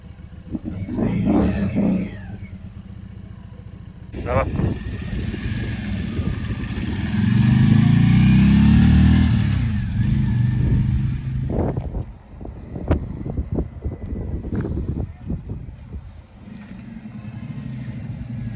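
A Yuki Funrider 125 cruiser-style motorcycle is ridden, its engine hum swelling and fading beneath heavy wind buffeting on the microphone, loudest midway through.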